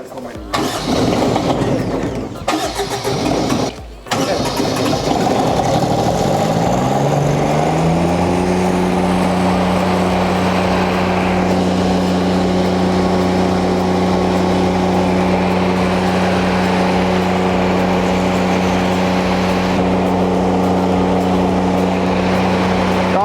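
A Lincoln Ranger 305 D welder with a Kubota diesel engine cranks and fires, the engine revving high and then settling into a steady, loud running drone that holds for the rest of the clip.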